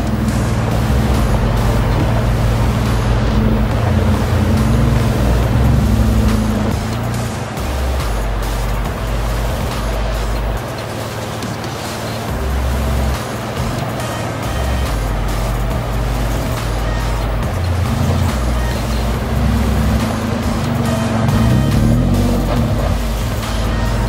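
A Suzuki Vitara with a V6 engine drives off-road on an alpine trail, its engine a loud, close, steady low rumble that rises and falls with throttle changes over continuous road noise, with no talking.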